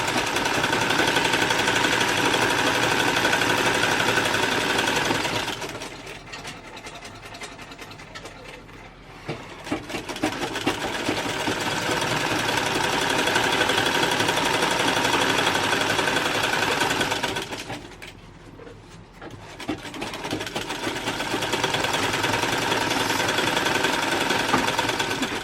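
A sewing machine runs a long straight seam along a dress strap with a neck tie, a steady loud mechanical whir that pauses briefly twice before resuming, with no talking.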